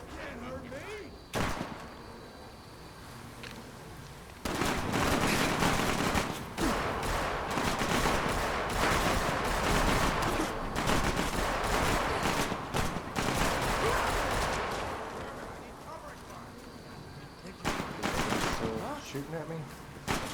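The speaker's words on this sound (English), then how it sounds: "Shooting at me, and I'm bleeding." Bursts of rapid raider gunfire in Fallout 4 crackle loud and close across most of the stretch, with sparse single shots before and after and some speech mixed in.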